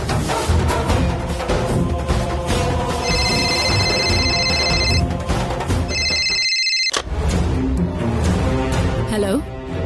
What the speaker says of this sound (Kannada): ಅಮ್ಮ, ರಿಂಗ್ ಆಗ್ತಿದೆ.